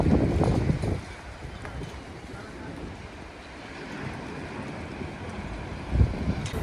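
Strong wind gusts buffet the microphone in a small seaside town in Greece, a broad low roar that swells loudest at the start and again near the end.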